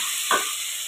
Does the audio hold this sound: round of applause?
no